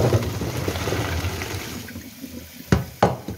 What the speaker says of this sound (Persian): بعد از 5 دقیقه زیرش رو خاموش میکنم و بلافاصله آب کش میکنم.